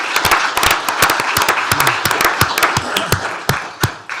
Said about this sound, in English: one more big round of applause for all our employees